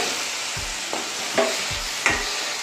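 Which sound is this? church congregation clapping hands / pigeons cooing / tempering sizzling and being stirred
tempering sizzling and being stirred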